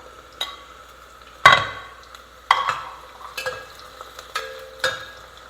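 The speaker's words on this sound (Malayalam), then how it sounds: "ഇപ്പോൾ ഇതിനകത്തേക്ക് പച്ചമുളക് ഇടുക." Green chillies tossed into a pan of softened onions, stirred with a metal spoon: several sharp scrapes and clinks against the pan over a low, faint sizzle, close and without talk.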